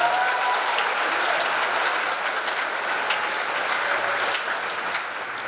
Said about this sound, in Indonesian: Mari kita tepuk tangan untuk Tuhan Yesus yang sangat baik untuk kita.